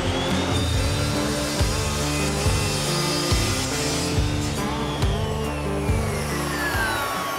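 An Evolution chop saw slices two 45-degree miter cuts, its motor whining loudly and steadily throughout with a grinding bite into the stock, close up and with no talking.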